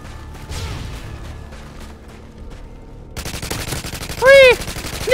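Automatic gunfire in Call of Duty: Modern Warfare 2 multiplayer: quiet game ambience, then rapid, loud bursts of rifle fire crackling close up through the second half, with a brief sharp effect near the end.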